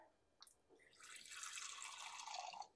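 Filtered water trickles and splashes into a container of chicken stock being prepared for pressure canning, a soft continuous pour with a few drips, fairly faint and close, no talking.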